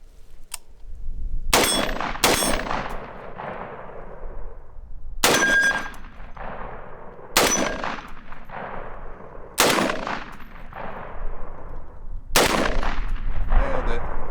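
Six sharp, loud shots at irregular intervals, each ringing briefly as rounds strike a 3-inch steel target hanging from a nearly broken chain.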